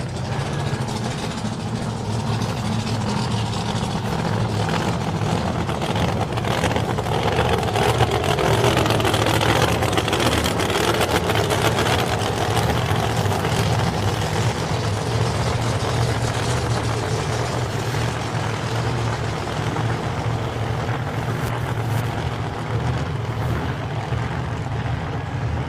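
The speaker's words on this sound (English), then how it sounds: "The Mustang of Chris Jackson coming out now. Oh, doesn't that sound cool? Nice blown engines" Mustang drag car with a blown engine doing a burnout at a nostalgia drag racing event, a loud sustained engine roar holding steady with a deep low rumble, close and unbroken for the whole stretch with no talk.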